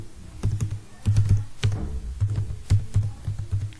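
Keys clatter on a computer keyboard as C code for a while loop is typed, in short irregular bursts of clicks with brief pauses, close and fairly loud with no voice over them.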